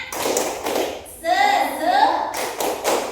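Schoolchildren in a classroom do the spirited tepuk semangat clap, a short burst of loud, close, rhythmic hand claps, followed by voices calling out together and then more clapping.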